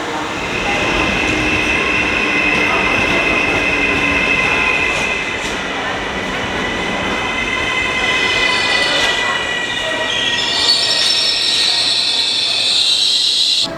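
Loud, continuous rumble of an Italian intercity train running on rails, with metallic squealing wheels and rattling carriages, a faint voice briefly underneath.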